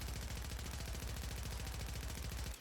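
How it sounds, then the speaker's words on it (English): Rapid automatic fire from an AMR9 in the video game Warzone 3, a dense continuous burst of punchy shots in even rhythm that stops abruptly at the end. "I'm going to shoot 2 back to back, side by side"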